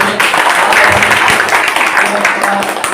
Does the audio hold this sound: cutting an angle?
no